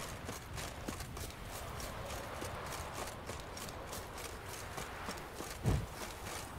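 Horse hooves clip-clop at a steady walking pace in The Witcher 3, a faint even rhythm over soft game ambience with one low thump near the end.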